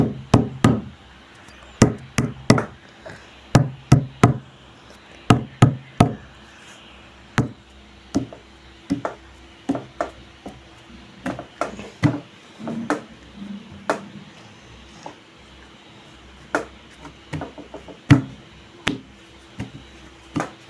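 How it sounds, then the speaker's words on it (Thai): A door is knocked on again and again in uneven bursts of sharp, hard raps, some quick clusters and some single knocks, getting louder at times against a quiet room. "เมื่อกี้นี่เสียงเคาะประตู"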